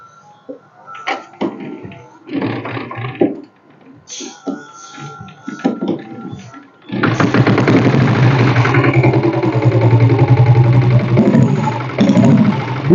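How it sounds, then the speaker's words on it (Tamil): A 1996 Royal Enfield Bullet diesel motorcycle engine is heard close up, first with irregular cranking bursts and clatter, then catching and settling into a loud, steady, thumping idle. "வண்டி இப்போ ஸ்டார்ட் பண்ணி காட்டுறேன் பாருங்கள்."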